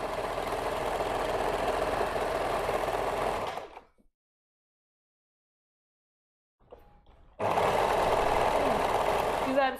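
A sewing machine stitches stretchy lycra fabric for a slit tunic. The motor whirs in two close, steady runs separated by a few seconds of silence.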